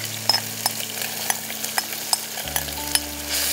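Small mourola fish hitting hot oil in a pan for a Bengali sour fish curry, starting a steady close sizzle partway through after scattered clinks and stirring sounds.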